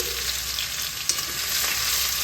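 Chopped garlic frying in oil with dried red chillies and black cumin, a steady soft sizzle with faint stirring that runs evenly throughout, close and fairly quiet.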